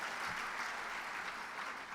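Brief, dense applause from the audience at a Women of Color in STEM recognition lunch, an even wash of many hands clapping at once.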